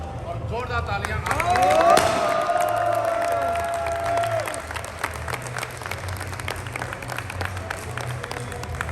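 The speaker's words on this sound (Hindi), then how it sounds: "और जोरदार तालियां" Loud applause and cheering from a large crowd at a live event, building to a peak early then settling into steady clapping with hubbub and some voices through the rest.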